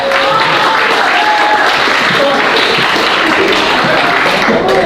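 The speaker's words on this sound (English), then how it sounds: "give a round of applause for Don, Professor Don and Brian." Audience applause at a college international dinner, dense and steady clapping for the full stretch with a few voices and cheers mixed in, loud and close.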